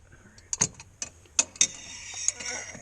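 A half-inch drive ratchet clicks on a wagon tie in uneven bursts of sharp ticks with brief pauses, fairly close and moderately loud.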